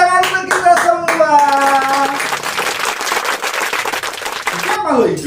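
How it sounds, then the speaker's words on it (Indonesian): A third-grade class claps hands together in a lively burst, with a rhythmic clapping pattern at first, then steady applause, mixed with children's cheerful voices and singing. "Tepuk tangan untuk kita semua."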